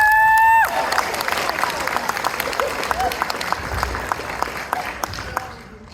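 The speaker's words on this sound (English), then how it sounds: "Give yourselves a round of applause." An indoor audience breaks into sustained applause with scattered cheers after a short tone, the clapping steady and fairly loud before fading out.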